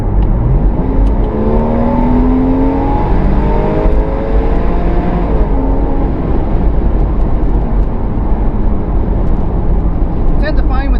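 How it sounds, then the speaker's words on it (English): A Porsche Boxster 986 accelerating on kick-down on a drive in Spain, its engine note climbing in rising sweeps through the revs, loud and close, with a brief whirring rattle near the end. "when I want that little boost of power, I give it the kick down, then nudge it down again on the steering wheel so it drops down 2 gears"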